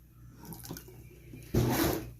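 Water pours into a 2.5 liter ultrasonic cleaner tank. A soft rush starts faint and then grows louder and fuller near the end.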